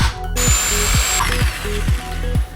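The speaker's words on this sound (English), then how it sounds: "drill out these two little rivet points so you can use this front bracket on the Prelude rail" A power drill whirs in short repeated bursts, its motor dipping under load each time it bites into metal rivets on a car seat bracket, close and loud.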